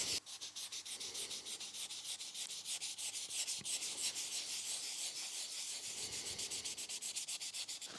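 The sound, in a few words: wet sanding with fine sandpaper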